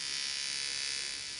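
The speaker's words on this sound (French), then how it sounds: "La brosse à dents à pile Colgate ActiBrush" A Colgate ActiBrush battery-powered electric toothbrush gives a brief, steady high-pitched buzz, faint and alone.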